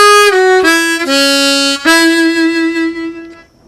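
A harmonica plays single draw-3 notes with pitch scoops, several sustained, clear tones bending between pitches, close and loud, then fading out, with no voice.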